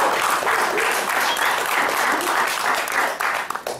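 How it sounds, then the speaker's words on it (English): A crowd at a culinary school graduation claps for a student, a steady burst of applause that fades in the last half second. "Give him a round of applause."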